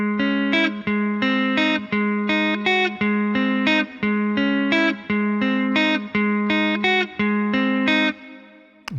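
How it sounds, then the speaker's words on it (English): Clean electric guitar plays the intro riff of a song in standard tuning, a repeating pattern of crisp plucked notes and short phrases with a slight effect shimmer, played alone and up close. "It's a clean guitar, and I'll play it and then I'll break it down slowly what's going on."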